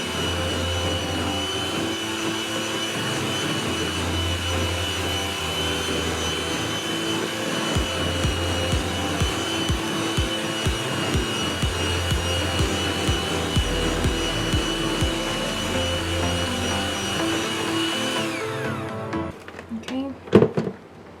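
An electric hand mixer on high speed blends a blueberry cheesecake ice cream base in a bowl, giving a steady close motor whine with uneven rattling bursts before it stops near the end.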